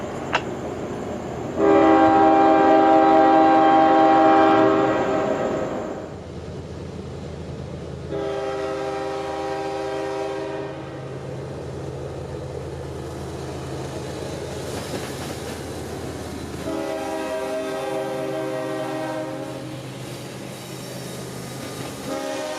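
KCS 4699 freight train rolling southbound through downtown Plant City, its horn sounding in three loud, long blasts over a steady rumble of passing railcars.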